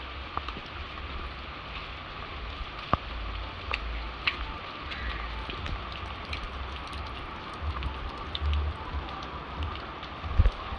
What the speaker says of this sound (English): So I'm walking in the rain